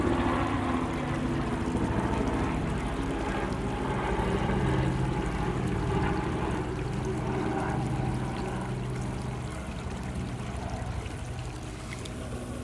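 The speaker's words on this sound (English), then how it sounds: "Here's another helicopter." Helicopter passing overhead, a continuous loud rotor and engine drone that slowly fades slightly toward the end, with no voices.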